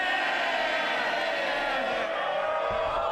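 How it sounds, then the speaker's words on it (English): Loud, sustained cheering and shouting from the Labour benches in the House of Commons, a dense crowd roar that fills the whole clip. "A lot of cheering now from the Labour side."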